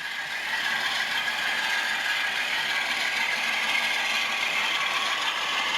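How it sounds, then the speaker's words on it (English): Bachmann Class 47 model diesel locomotive with a brake tender pulling Bachmann chalk wagons through a points crossover, giving a steady close mechanical whirr and light clicking rattle that runs unbroken throughout. "And here you see it with the diesel brake tender pulling Bachmann chalk wagons through our points crossover."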